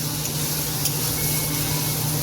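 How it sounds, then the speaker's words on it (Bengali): Carrot and capsicum fry in a pan on a high gas flame, giving a steady, soft, continuous sizzle close by with no talk over it. "গাজর আর ক্যাপসিকামটা দিয়ে দিয়েছি বেশি ভাজবো না হালকা ভাজবো"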